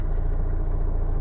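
A Vauxhall Vivaro, Renault Trafic or Nissan Talento van engine idling, a steady low rumble close by and loud, with no voices over it.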